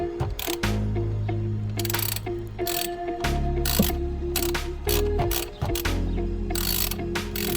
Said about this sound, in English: Make sure the tool is engaged tightly in the screw. And pull hard and loosen it.